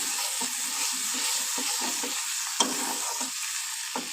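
Spice paste with yogurt sizzles softly in a pan for a katla fish curry while a spoon stirs it in steady, repeated scraping strokes, close and moderately quiet, with no voices.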